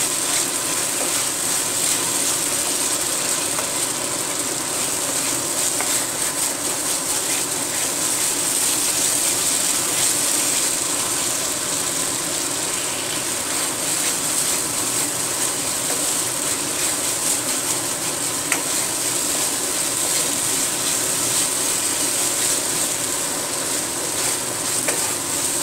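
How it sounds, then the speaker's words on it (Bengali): Bengali masala paste frying gently in oil over low heat for a green jackfruit curry, a steady, even sizzle with faint scraping and stirring throughout, no voices. "একটু আস্তে কমিয়ে আস্তে আস্তে করে মশলাটা একটু কষাচ্ছি"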